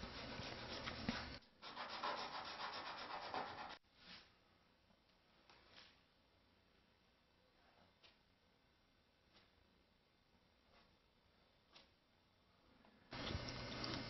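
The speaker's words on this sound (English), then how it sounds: "I need to scratch away the waxy surface of the cured Bondo" Cured Bondo filler on a molded fuselage is scratched with dry rasping strokes. There are loud bursts at the start and end, and quieter, sparse scraping and light ticks fill the middle.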